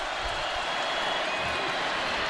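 Roaring stadium crowd at an Auburn vs Georgia college football game, a dense steady wash of cheering and noise filling the air with no breaks.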